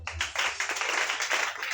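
A church congregation clapping together in praise of the Lord, a brief burst of steady rhythmic applause from a crowd, fairly close and alone.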